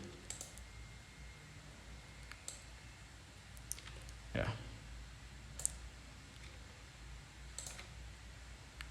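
Faint, sharp computer mouse clicks come one at a time at irregular intervals over a quiet background while using the Pen Tool in Adobe Illustrator.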